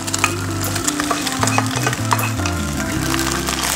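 Cooked rice is stirred into a hot pan with egg and oil, giving a steady sizzle and frying crackle with repeated scraping and stirring strokes, close and moderately loud, with no talking.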